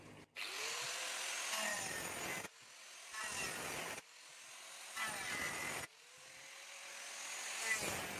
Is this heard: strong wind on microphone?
no